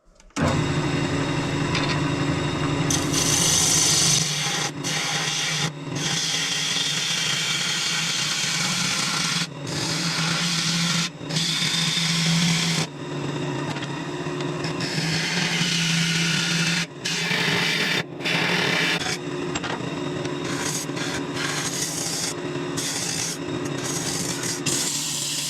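Sandpaper pressed against a wooden turning spinning on a lathe: a loud continuous rasping hiss over the motor's hum, broken by several short pauses as the sanding is lifted and resumed.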